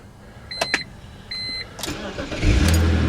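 A car that has sat undriven for weeks gets unlocked with a couple of short chirping beeps, then its engine cranks and fires up, settling into a loud, steady idle close by.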